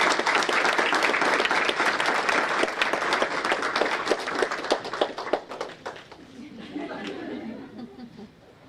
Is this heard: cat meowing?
no